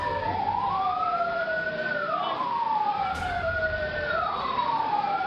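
A fire truck siren wails loudly and steadily at the scene of a shop fire in Ambon, Maluku, rising and falling in slow repeated sweeps over a constant wash of traffic and street noise.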